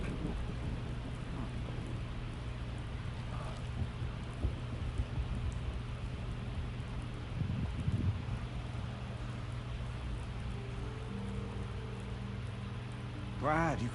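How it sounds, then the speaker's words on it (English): Steady indoor rainfall in the video game Death Stranding 2, a soft continuous patter with low rumbling underneath, carrying on through the scene while a short tonal game sound rises near the end. "And why is it raining in here?"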